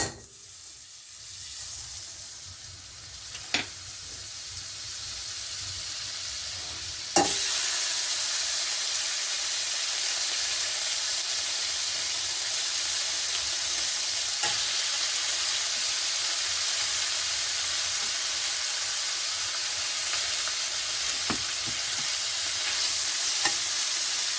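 Butter melting and heating on medium in a pan for grilled cheese sandwiches, a soft sizzle that swells into a steady, even hiss after a brief clack, with occasional faint ticks.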